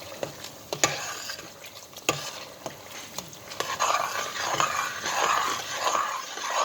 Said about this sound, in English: To continue stirring to prevent it from burning.